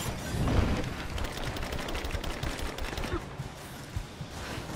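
Rapid bursts of gunfire crackle in a firefight in the video game Rise of the Tomb Raider, a dense, continuous clatter of shots layered over game ambience.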